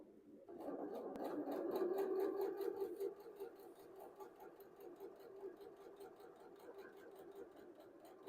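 A sewing machine runs steadily at close range as quilt rows are stitched together, a continuous whirring hum with a rapid needle patter and no talking.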